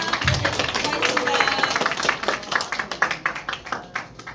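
An audience applauds after a lecture on running and exercise physiology in a hall, steady clapping from many hands that thins to scattered claps, while a host speaks over it.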